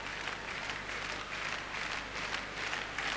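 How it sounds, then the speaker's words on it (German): The arena audience claps in a rhythmic staccato beat at the 1989 World Gymnastics Championships uneven bars final. The clapping is steady and pulsing, fairly distant, and fills the hall in regular waves. "das Publikum fordert mit Staccato Beifall die 10"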